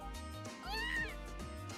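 A cat meows in the video game The Legend of Heroes: Trails of Cold Steel, one short rising meow over a looping game music bed, clear and close.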